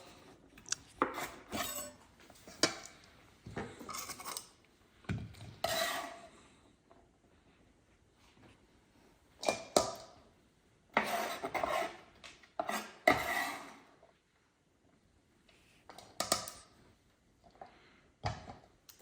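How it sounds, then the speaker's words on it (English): Intermittent bursts of knife chopping herbs, including fennel, on a board, several short rapid runs separated by quiet pauses, close and crisp. "Let me get on with my chopping of the other herbs."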